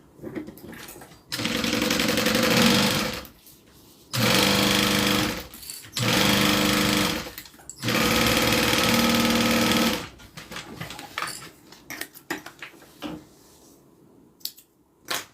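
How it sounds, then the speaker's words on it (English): A sewing machine top stitching a zippered bag runs in four loud, steady bursts of a few seconds each, close up, with pauses and small handling clatter between them. "And then open that up and do another top stitch."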